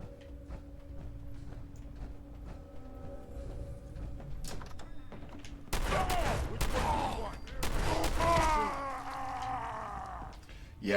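Gunfire from a close-range gun in the video game Fallout 4: a couple of loud bursts of shots crack out over a low game ambience, mixed with whirring, warbling robotic tones.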